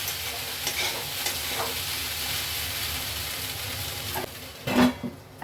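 Sabudana (tapioca pearls) fry in a little oil over a low gas flame, giving a soft, continuous sizzle with occasional stirring scrapes and a brief louder clatter near the end.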